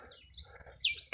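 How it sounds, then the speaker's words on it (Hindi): Birds chirp and tweet steadily in a jungle where nilgai roam, with bright, continuous high calls close by and a louder burst of song near the end, no talking. "पक्षियों की आवाज के साथ नीट एंड क्लीन एटमॉस्फेयर."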